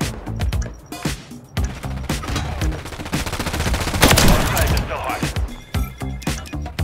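Rapid gunfire from a Call of Duty match crackles in dense bursts with sharp repeated shots and a louder blast midway, a sniper trick shot among the in-game weapon sounds, close and busy throughout.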